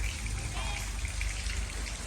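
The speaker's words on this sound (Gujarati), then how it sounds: "કેવો વરસાદ પડે છે" Rain falls steadily outdoors, a close, even patter and hiss of drops on surfaces that continues without a break.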